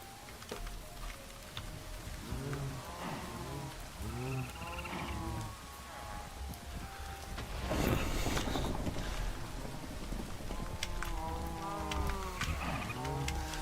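Cattle mooing in the Minecraft video game, several drawn-out lowing calls repeating over a steady low background hum, with a louder burst of noise midway.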